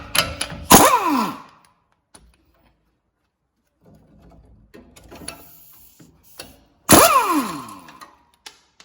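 A ratchet clicks in sharp fast bursts while loosening nuts on the front brake of a 2014-2018 Honda Pilot, two loud ratcheting runs separated by quiet tool handling and faint clinks.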